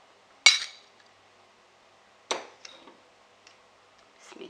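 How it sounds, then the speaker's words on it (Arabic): A spoon clinks against a bowl while mixing white flour and water into a paste, a few sharp, isolated taps and scrapes separated by quiet pauses. "اولا سوف نخلط الدقيق الابيض بالماء الى ان نحصل على عجينة"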